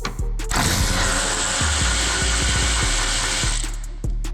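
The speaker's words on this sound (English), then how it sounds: "let's go ahead and remove this bolt here." A powered ratchet spins out a headlight bolt on an Acura TL, a close, loud mechanical whir that runs continuously for about three seconds with small rattling ticks before stopping.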